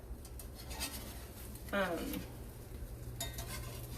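Scrambled eggs pushed with a utensil across a frying pan, soft scraping and light sizzle with a brief louder scrape near the middle, under a person talking.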